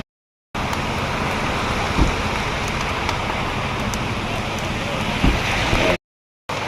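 Steady rain pours down all morning at a roadside roasted-corn stall on a nature trip, a dense, even hiss that stays constant throughout, with a couple of soft thumps and a faint hint of voices beneath.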